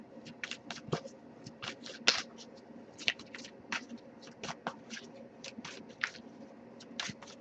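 Tarot cards being shuffled by hand, giving repeated crisp riffling and flicking bursts at an irregular quick rhythm, close and fairly quiet, with no talk.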